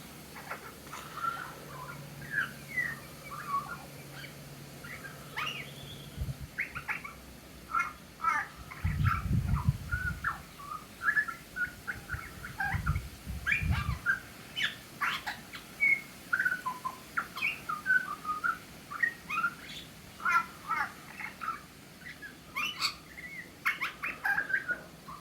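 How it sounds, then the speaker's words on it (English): A butcherbird sings nearby outdoors, a long run of varied fluting and chirping phrases repeated over and over, with a few low thumps and rumbles early on. "Oh, we've got a butcher bird serenading us."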